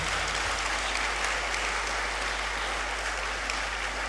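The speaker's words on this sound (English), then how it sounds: "I believe he deserves another round of applause." Dense, even applause from an audience follows an inaugural university lecture, sustained and fairly loud across the whole stretch without any speech.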